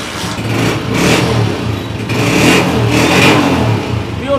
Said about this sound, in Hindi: साउंड सुने सबसे पहले होंडा 125 मॉडल 2023 लग रहा है